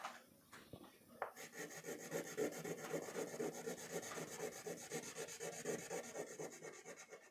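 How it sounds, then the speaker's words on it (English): A crayon rubs across paper in steady, repeated strokes, a soft scratchy rasp close by with a regular back-and-forth rhythm and no talk. "See children, I'm coloring in the same direction."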